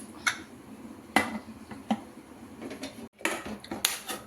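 A metal lid set onto a pressure cooker of mutton curry in a home kitchen, giving a few sharp clinks and clatters spread over several seconds.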